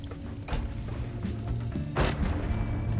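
Explosions in the pixel-physics game Noita, where bombs blow apart destructible terrain: two broadband booms, a softer one near the start and a louder blast about two seconds in, over a steady rumbling game background.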